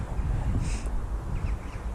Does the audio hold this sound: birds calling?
yes